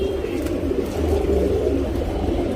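A male pigeon coos close by. It makes a low, throaty rolling coo that continues without a break for a few seconds, alone with no voices.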